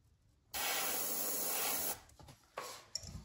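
A spray can hisses in one steady burst of about a second and a half while painting crankbait fishing lures, followed by brief shorter puffs and handling noises, close and fairly quiet.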